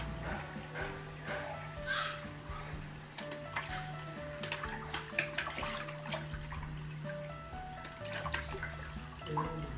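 Water balloons falling and bursting one after another, a steady wet splashing and pattering with scattered sharp bursts over running water, under occasional faint talk.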